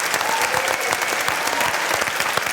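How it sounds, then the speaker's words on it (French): Audience applause for debate speakers at a French debating and eloquence event in Saint-Germain-en-Laye, a steady dense patter of many hands clapping close by, with no one talking. "Veuillez applaudir les tribuns de Saint-Germain-en-Laye."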